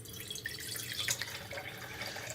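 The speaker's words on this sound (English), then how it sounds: "We are now going to pour the juice into our jar" Fresh fruit and vegetable juice trickles and splashes into a jar in a kitchen, a soft continuous pour with faint dripping, no talking.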